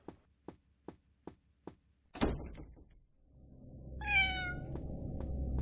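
A cat meows once in an RPG Maker horror game, a clear, fairly loud, drawn-out call that follows a run of evenly spaced footsteps and a door-like thud, with a low ambient hum underneath.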